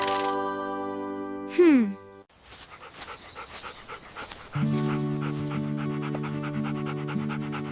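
A dog pants in quick rhythmic breaths amid a cartoon-like mix of tonal sounds, a sliding whistle and clinks, with a steady musical tone later; moderately loud and close.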